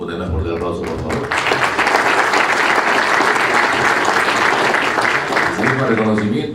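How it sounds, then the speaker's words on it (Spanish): A large audience claps at a formal award ceremony, sustained dense applause that swells after a brief opening moment and holds steady, with a voice faintly present near the start and end. "Un más fuerte aplauso, por favor."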